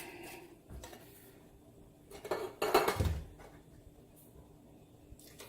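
Canned ingredients clatter into a stock pot while chili is being made, a couple of soft metallic knocks and then a louder cluster of clanks near the middle, close by with no talk.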